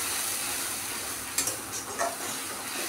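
Spice paste frying in the leftover oil used for the potatoes and taro, giving a steady close sizzle with a few brief stirring scrapes partway through.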